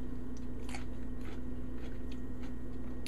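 Crunchy, slightly bitter Black Seeded Simpson lettuce stems being bitten and chewed close up, a series of sharp crisp crunches over a steady background hum.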